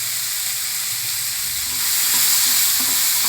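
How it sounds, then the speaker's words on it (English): Boiled chana and curry leaves sizzling in a hot pan while being stir-fried, a dense continuous hiss that swells louder partway through, with faint scraping of stirring and no talking. "and stir fry everything well together"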